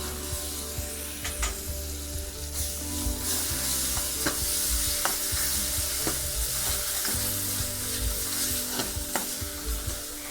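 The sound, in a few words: stirring and frying onion coconut masala tempering for masoor amti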